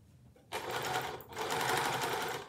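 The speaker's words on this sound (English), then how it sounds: "she has got a sewing machine" A small toy sewing machine whirs steadily in two runs with a brief pause between, its fast buzzing stitch loud and close.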